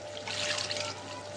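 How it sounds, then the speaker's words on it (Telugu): Water poured into a pan of okra and tamarind curry, a soft steady trickle and splash rising briefly then settling into a lighter flow, close and alone. "చింతపండు పులుసు వేసి దాంట్లో కొంచెం వాటర్ వేసుకుందాం ఫ్రెండ్స్"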